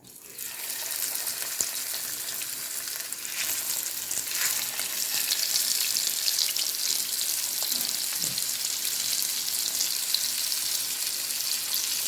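Avoli fish shallow-fries in hot coconut oil with curry leaves, a dense, loud, continuous hiss and crackle that swells after the first few seconds and holds steady throughout, with no voices.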